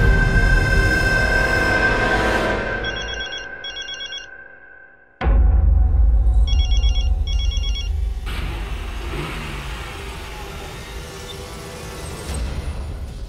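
A phone ringing unanswered in a drama scene, two short bursts of electronic ringing, a break, then two more bursts, set against loud music and a car engine that swells and revs in the background.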